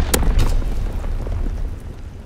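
Mortar rounds exploding in Call of Duty: WWII, a sharp nearby burst opening into a rolling low boom, with a second thud and dull rumbling that fades across the moment.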